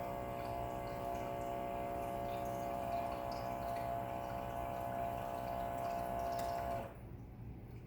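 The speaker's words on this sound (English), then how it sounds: "Let's add our water." Water poured steadily into a pitcher for rice-water horchata, a continuous close, fairly loud splashing flow that stops abruptly near the end.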